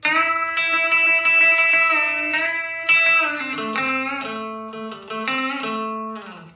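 A clean electric guitar plays a minor pentatonic scale, single notes running up and down, each ringing briefly into the next at a steady, moderate pace.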